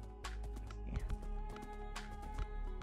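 Horse hooves clop in the Minecraft video game, a quick irregular run of soft hoofbeats over steady background tones.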